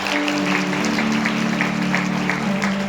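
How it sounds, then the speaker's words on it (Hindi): Congregation at a Hindi-language church holy communion meeting clapping in praise, an even wash of applause under a steady electronic hum, moderately loud throughout. "तालियां बजाकर महिमा करें परमेश्वर"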